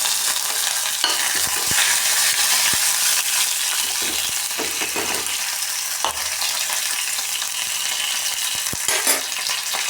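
Cumin, mustard seeds and curry leaves sizzling in hot oil for a masala potato dish: a steady bright hiss with scattered pops and light stirring clicks, near and without talk.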